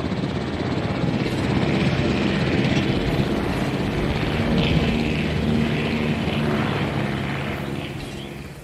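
A helicopter in the video game Jurassic World Evolution drones steadily, a continuous rotor-and-engine roar that swells gently and fades slightly at the end, with no talk over it.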